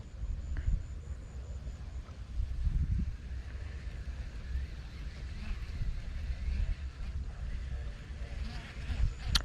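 Strong wind gusts roar across open water on a morning fishing trip, a steady, dense rush buffeting the microphone throughout with a faint hint of boat or water movement beneath.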